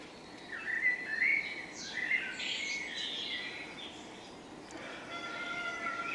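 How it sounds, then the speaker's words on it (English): Many wild birds, blackbirds among them, sing in the open, with bright chirps and whistled phrases clustered mostly in the first half, moderately close over a soft, steady outdoor background and no voices. "we're now surrounded by birdsong"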